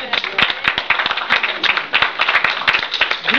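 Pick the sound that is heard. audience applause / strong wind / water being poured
audience applause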